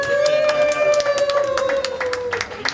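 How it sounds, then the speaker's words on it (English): At the launch of a women's lactation room, an audience claps in scattered, uneven bursts, sharp hand claps close by over a steady sustained tone, with no one speaking. "Everybody clap."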